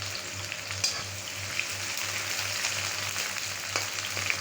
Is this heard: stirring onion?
yes